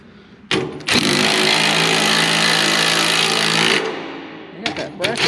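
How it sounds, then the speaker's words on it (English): A power tool runs during work on a 5-ton military dump truck, a loud continuous whining buzz that starts abruptly, holds steady for about three seconds, then cuts off, followed by brief clanks and nearby movement. "I'll let you run the power tool this time."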